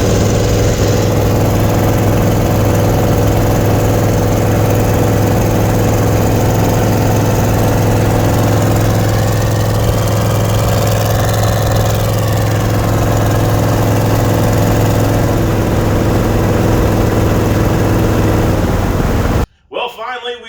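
An old Chevy engine roars steadily on a dyno during tuning, a loud sustained drone with a strong low hum that holds nearly unchanged for about nineteen seconds before cutting off abruptly, followed by a brief quieter tail.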